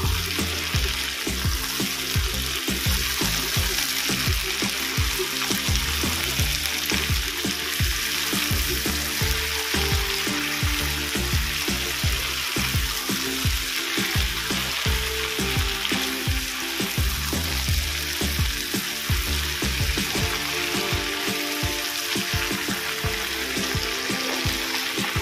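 Chicken pieces for a Bengali chicken and potato jhol frying in a pan, a loud, dense, unbroken sizzle and crackle of hot oil lasting throughout, close up with no talking.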